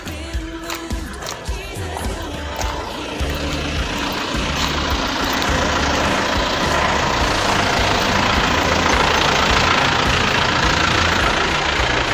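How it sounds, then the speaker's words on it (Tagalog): Motorcycle engine idling nearby with a low, steady rumble and knocking pulse, growing slightly louder and more constant toward the end, with no talk over it. "Yung ating motor."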